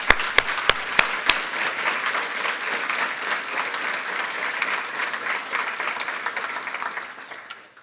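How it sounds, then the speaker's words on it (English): Conference audience breaking into warm applause: a few sharp early claps quickly swell into steady, sustained clapping from a large crowd that gradually fades at the end. "Let us give them a warm applause."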